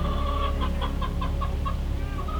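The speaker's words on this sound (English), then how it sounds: "You can hear the chickens in the background." Chickens near a coop at a rural cottage cluck in a quick repeated series at moderate distance, over a steady low background hum.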